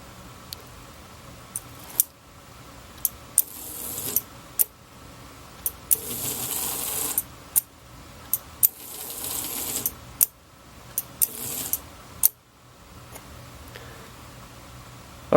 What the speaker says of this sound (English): The unit is cycling reliably, he's running smoothly.